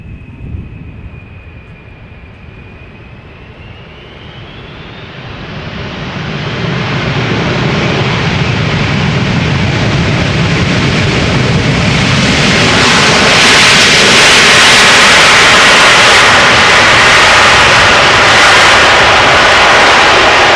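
An Air China cargo jet roars overhead at Amsterdam Schiphol Airport, its engine noise swelling from a distant whine into a loud, broad rush that stays heavy to the end.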